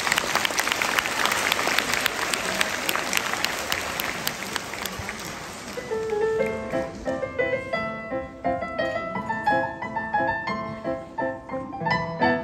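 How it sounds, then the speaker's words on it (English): Welcoming applause from a primary school audience, dense and steady at first, then thinning after about six seconds as piano notes of Mozart's Rondo alla Turca begin to ring out. "First of all, a round of welcoming applause."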